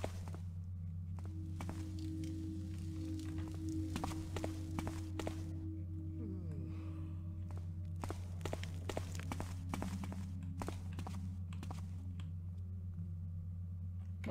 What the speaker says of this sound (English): Where am I hearing those footsteps from?